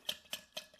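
A spoon stirs a cocktail with Angostura and orange bitters in a glass, making three faint, evenly spaced light clinks.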